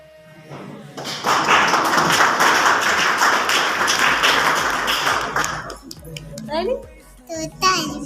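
An audience claps in a dense, sustained burst for several seconds at an Azadi Ka Amrit Mahotsav event at Govt ITI Damoh, then fades into voices and chatter.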